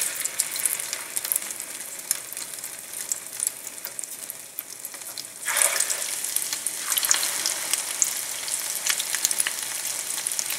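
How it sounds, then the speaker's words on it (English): Shami kebabs sizzle in hot oil as they shallow fry in a pan, a steady crackling hiss that flares louder midway as another kebab is laid in, then keeps frying evenly with no talk. "I'm going to add these kebabs one by one in the pan."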